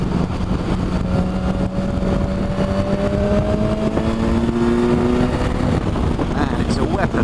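A BMW S1000XR motorcycle engine revs high and steady, its pitch climbing in long sweeps with a constant roar of wind and road noise around it.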